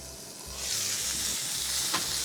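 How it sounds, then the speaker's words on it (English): Mushrooms sizzling in a frying pan, a soft hiss that grows louder and steadier after the first half-second, with one brief sharp crackle near the end. "I'm gonna turn my heat down just a little bit because I'm hearing more sizzling than I like to"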